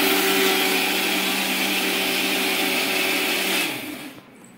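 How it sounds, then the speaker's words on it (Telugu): An electric mixer grinder whirs loudly as it grinds dosa batter, a steady, close motor drone that winds down and stops near the end. "ఇవన్నీ వేసుకొని మిక్సీకి అయితే గ్రైండ్ చేసుకోవాలండి."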